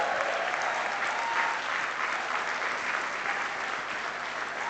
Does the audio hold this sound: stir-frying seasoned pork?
no